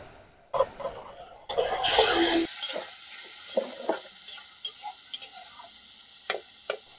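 Chopped tomatoes fry in spice masala of Kashmiri chilli powder and coriander powder, a sizzle rising sharply after a quiet start, followed by a series of clacking stirring knocks spaced through the rest.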